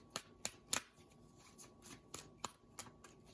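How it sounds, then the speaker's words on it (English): A tarot card deck is shuffled by hand in a quiet room: a series of crisp, irregular riffling snaps, some sharper and louder than others, spaced a fraction of a second apart. "I shuffled this deck so many times"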